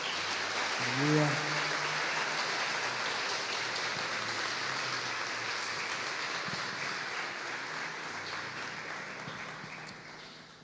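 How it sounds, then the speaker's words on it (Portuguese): A church congregation applauds during a sermon, a broad, continuous clapping that runs steadily and slowly fades, with a shouted exclamation near the beginning. "Você pode aplaudir esse Deus maravilhoso?"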